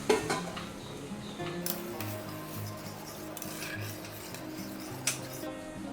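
Boiled milk poured into a pan and stirred, with scraping and clinking of a utensil against the metal pan over a soft sizzle, close and busy, no talking.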